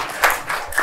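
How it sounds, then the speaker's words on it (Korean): A brief burst of clapping from a small group, a few quick overlapping claps lasting under a second. "이쯤에서 우리 선생님들을 위해서 박수 한번 칠까요?"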